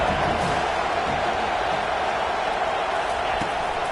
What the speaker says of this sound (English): this crowd is tearing the lid off this place